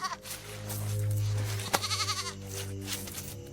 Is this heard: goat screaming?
yes